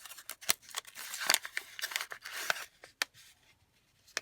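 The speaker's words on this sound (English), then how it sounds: "let me grab a pair of scissors" Scissors snip repeatedly at close range, a rapid, irregular series of crisp cuts, some with a faint papery rustle between them.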